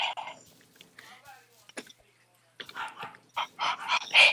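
A person's voice imitates a dog barking and growling over voice chat during a Deepwoken game session, with short yelping bursts, a pause, then louder rough bark-like cries toward the end.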